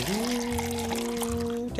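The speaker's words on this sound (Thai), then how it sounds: "แล้วก็เหยือกนี้มีน้ำครับ แล้วก็เทน้ำลงไป" Water poured from a jug in a steady stream, its rising tone filling the vessel over nearly two seconds, with a low background hum throughout.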